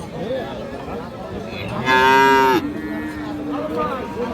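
Friesian and crossbred bull calves stand at a cattle market. One long, loud moo rises clearly over faint crowd murmur.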